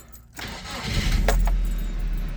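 A 2001 Nissan Frontier pickup with a 4-cylinder engine cranks and starts, settling into a steady, close low rumble with no talk over it.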